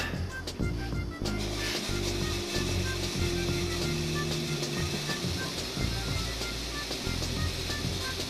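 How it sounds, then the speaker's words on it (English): Halloween fog machine fitted with a tube over its nozzle, running steadily to lay low ground fog; a continuous mechanical drone and broadband hiss with a low hum, close and fairly loud, no talking. "Since we're making ground fog, I'm going to put my fog machine right there."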